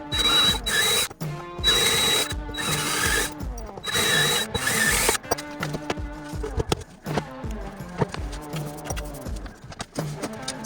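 A power drill boring holes in a jon boat, stepped up to a 3/16 bit for the bolts that mount a Bimini top. The close, loud drilling comes in repeated whirring bursts with short pauses between them.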